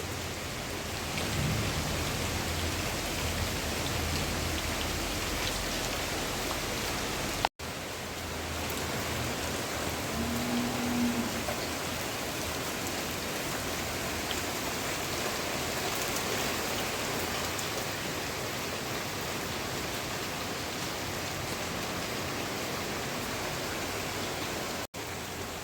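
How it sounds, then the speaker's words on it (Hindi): Steady heavy rain with wind over Haridwar, a dense continuous hiss of downpour with occasional low rumbles of thunder, loud and close throughout with no voices. "बारिश तो थोड़ा सा कम हो गई है, लेकिन हवा चल रही है और गर्जना हो रही है बहुत तेज तेज।"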